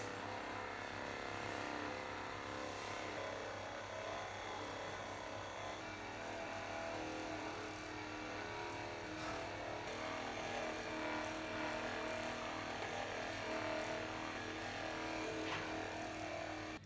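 A Recovapro massage gun fitted with a ball or flat head works the muscles around an elbow, giving a steady, unbroken motor buzz that holds an even level for the whole stretch with no talking.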